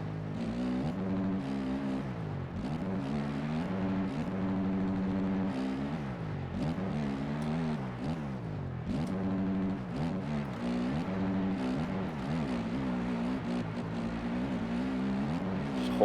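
A motocross bike engine in the MX Bikes video game holds a steady buzzing drone, its pitch rising and falling as the throttle is worked, and it continues without pause and without talk.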